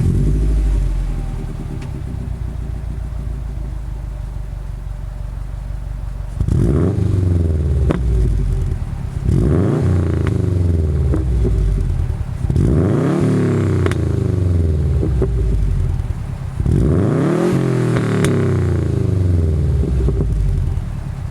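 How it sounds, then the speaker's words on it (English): A Subaru WRX hatchback fitted with an SPT catback exhaust idles with a deep grumble, then revs four times in steady succession, each rise and fall loud and close. "This one has the SPT catback from Subaru on it. So it's not super loud, but it has a nice deep grumble to it."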